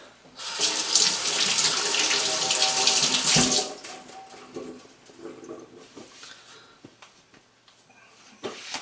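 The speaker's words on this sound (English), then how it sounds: "Let me rinse my hands because they're rather soy saucy." Hands are rinsed under a running kitchen tap, water splashing loudly for about three seconds before the flow stops, followed by quieter clinks and small handling noises.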